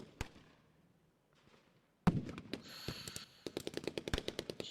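Gunfire from the tactical war game Lock 'n Load Tactical Digital: after a quiet opening with a single shot, a loud volley erupts into rapid, repeated crackling shots and bursts that continue steadily to the end.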